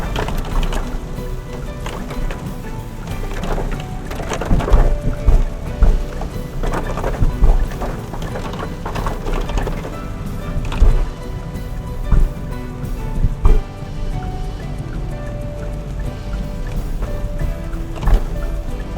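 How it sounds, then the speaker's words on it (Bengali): Heavy rain pounds a car on the road from Ranchi to Netarhat: a loud, dense wash of drumming on the roof with sharper splashes and bumps over the steady road rumble. "খুব জোরে বৃষ্টি হচ্ছে।"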